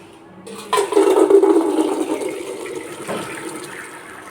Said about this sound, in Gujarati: આપણે જે ભાતને બનાવતા હોય એવી ચાયણીમાં પાણીને કાઢી નાખવાનું છે.